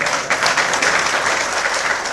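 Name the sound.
audience applause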